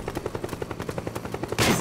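Rapid gunfire in Metal Gear Solid 4: a fast, regular burst of around twenty shots, moderately close, ending in a louder, broader blast.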